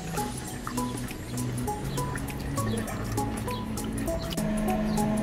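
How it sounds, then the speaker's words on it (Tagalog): Kare-kare mix is stirred into beef broth in a cooking pot, giving close, soft liquid sloshing and dripping with light clinks of a utensil, continuous and moderately loud, with no speech. "Ihalo natin sa beef broth. I-mix lang natin ng ganito para ma-dissolve."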